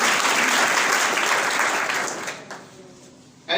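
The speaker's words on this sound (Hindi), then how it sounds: "आप हज़रात से इल्तमास करना चाहता हूँ कि जोरदार तालियों से उनका इस्तक़बाल करें।" Loud applause from a seminar audience welcoming a guest speaker, dense and sustained for a couple of seconds before thinning out and dying away near the end.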